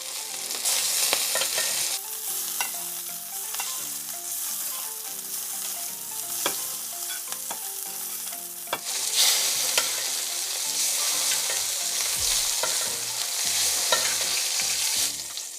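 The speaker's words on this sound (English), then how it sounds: "we're gonna continue to sear it" A steak sears in a pan with a continuous close sizzle, developing a golden brown crust before being flipped and butter-basted. Frequent scraping and stirring clatters run through the sizzle, and no one speaks.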